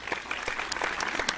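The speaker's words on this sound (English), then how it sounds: "Round of applause, everyone." A short burst of scattered applause, a handful of distinct claps over a light background clatter, brief and fairly close.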